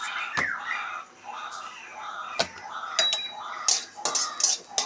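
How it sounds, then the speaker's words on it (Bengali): Black cumin seeds dry-fry in an empty wok while a metal spatula scrapes and taps the pan, giving sparse sharp clinks and light scraping over a quiet kitchen background. "কড়াইতে ভেজে নেব"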